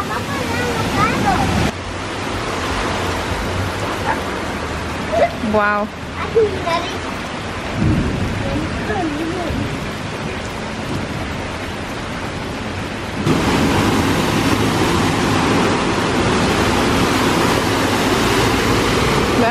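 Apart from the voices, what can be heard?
floodwater rushing through a street after heavy rain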